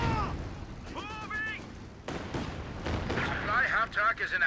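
Katyusha rocket artillery firing in Company of Heroes 2, a rapid ripple of launches and blasts in dense battle noise, with overlapping voices and radio-style unit chatter on top.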